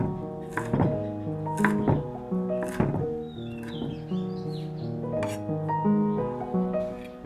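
Knife chopping lemongrass, galangal and chili on a board, a series of distinct thunking strikes at an uneven pace over soft background music with bird-like chirps.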